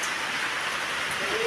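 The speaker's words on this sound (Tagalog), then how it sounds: "Humihina na po ang ulan." Rain falls steadily around a house on a hillside, a dense, close hiss of drops on surfaces that stays fairly even, with a brief faint tone near the end.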